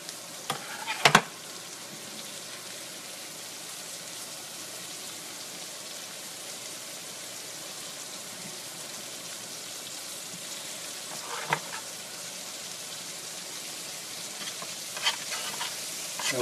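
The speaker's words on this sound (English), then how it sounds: "So you'll see as I start to move these zucchini around, they'll start to separate." Zucchini noodles sautéing in a hot pan with a little added fat, a soft steady sizzle running throughout with a few brief scraping stirs near the start and end; no talking.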